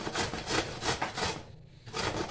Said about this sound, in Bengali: দেখো এবার এটা আমি ঘষে নিচ্ছি, এমনি করে ঘষে নেব।